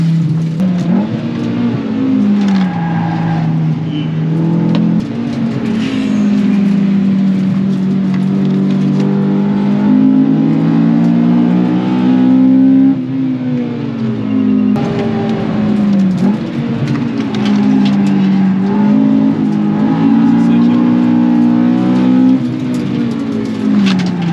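A Honda Civic lapping a race track roars loudly and close, its engine revving up and down continuously through gear changes, with hints of tyre squeal.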